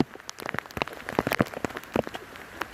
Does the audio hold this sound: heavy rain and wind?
yes